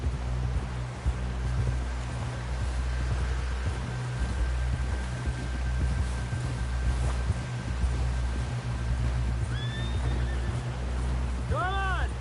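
Horse in the video game Red Dead Redemption 2, a steady clip-clop of hooves through rain over a low drone, ending in two loud, wavering whinnies close by.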